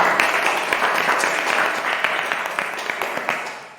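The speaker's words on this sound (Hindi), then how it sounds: "हम परमेश्वर के वचन में जाने से पहले परमेश्वर के जोरदार तालियों से स्वागत करते हैं।" A church congregation claps together in sustained, dense applause, many hands patting quickly and unevenly at a moderate distance, with a faint voice underneath.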